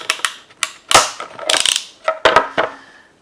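A PEX clamp cutter snips through a crimped clamp, giving a series of sharp metallic clicks and crunching snaps in uneven bursts, close and fairly loud with no voices.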